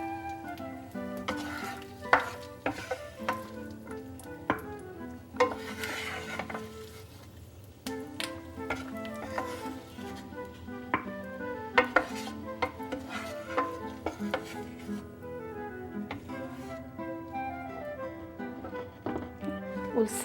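Pine nuts, almonds and raisins fry in a pan, giving a gentle sizzle with frequent stirring clicks and scrapes over a steady background hum and tonal music-like layers, close and moderately loud.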